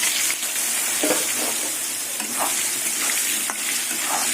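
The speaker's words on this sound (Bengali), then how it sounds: "এই তেলের মধ্যে এবার শুকনো লঙ্কা তেজপাতা পাঁচফোড়ন দিয়ে দেবো এবার আলু দিয়ে দেবো" Potatoes fry in hot oil with dried red chili, bay leaf and panch phoron, a steady loud sizzle broken by a few clinks of stirring, with no voices.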